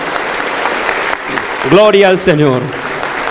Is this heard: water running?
no